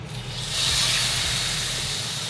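A sous vide ribeye steak hits a very hot pan to sear, a loud steady hiss that swells after a moment and holds, close up with no talking.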